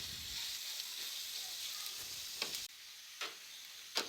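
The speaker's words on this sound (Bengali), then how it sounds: "পেঁয়াজ কুচিগুলো দিয়ে আমি ভালোভাবে নেড়েচেড়ে মিডিয়াম হিটে ভেজে নেব একদম ব্রাউন কালার করে।" Chopped onions fry on medium heat in a pan for beef liver bhuna, a steady broadband sizzle with a few brief scraping stirs near the end, no voices.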